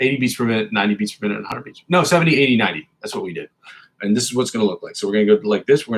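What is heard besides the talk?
No distinct noise like a dog, phone or traffic.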